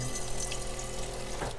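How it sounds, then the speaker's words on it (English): Asturian cider poured from height in a steady splashing stream, continuous liquid hiss for under two seconds, close and fairly loud, cutting off near the end. "I pour part of cider"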